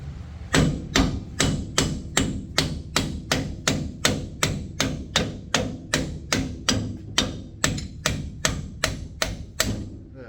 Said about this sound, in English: we're going to beat this thing out of here